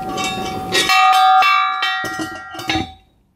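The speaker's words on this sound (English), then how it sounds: "there's like a giant fire bell right there" A large fire bell at an abandoned Wild West theme park rings out with sharp metallic strikes and sustained ringing overtones, loud and close, fading away at the end.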